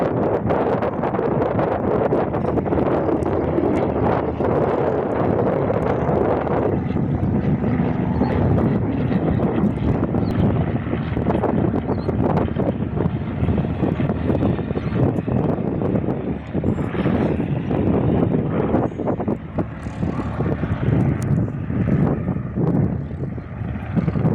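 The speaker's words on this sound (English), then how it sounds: "Singapore College Cessna C172 does a touch and go, while the Cessna C182 goes around for a second attempt" A Singapore College Cessna C172 light plane doing a touch and go on a windy day, its engine a steady loud drone throughout, with heavy wind buffeting the microphone the whole time.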